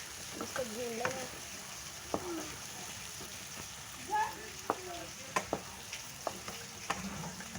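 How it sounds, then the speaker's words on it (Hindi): Eggs fry in a potato and egg curry, a constant close sizzle broken by scattered clinks and scrapes of stirring. "अंडे डाल दिए, इसको भून लेना।"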